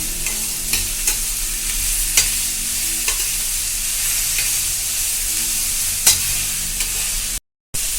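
Carrots sautéing in a pan for carrot biryani give a steady sizzle, with a spoon scraping and stirring in a few sharp clicks and no talk.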